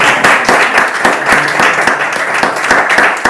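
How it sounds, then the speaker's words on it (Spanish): A studio audience applauds at the close of an episode about the educational challenge of social media, with brisk, continuous clapping at close range and sharp individual claps standing out in a steady rhythm. "Pues aplaudimos para el cierre"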